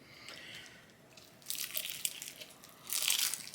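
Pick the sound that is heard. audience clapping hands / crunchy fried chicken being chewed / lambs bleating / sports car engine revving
crunchy fried chicken being chewed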